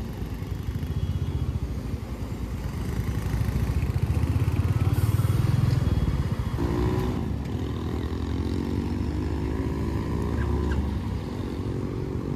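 A yellow Triumph Daytona superbike pulls away at night in Navi Mumbai, its engine rumbling loud and near, swelling as it revs and then fading into a steady idle hum alongside another bike.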